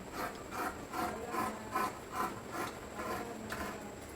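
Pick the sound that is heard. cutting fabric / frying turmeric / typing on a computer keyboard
cutting fabric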